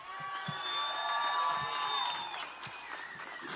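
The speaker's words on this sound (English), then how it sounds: "Let's give one more round of applause" Crowd at an El Paso Strong memorial and protest rally applauding and cheering, with high whistles and whoops over sustained clapping that fades slightly toward the end.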